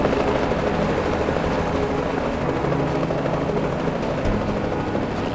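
A helicopter in the video game Reverse: 1999 drones steadily as it descends, with a constant broadband rotor roar and a low rumble throughout, loud and close.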